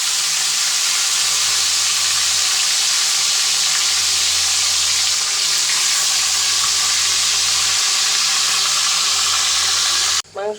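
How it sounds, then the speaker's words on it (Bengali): Chicken pieces fry in hot oil with bay leaves in a karahi, a steady dense sizzle and hiss running unbroken and loud for about ten seconds before cutting off abruptly at the end. "এখন কষাই নিব মাংসটা"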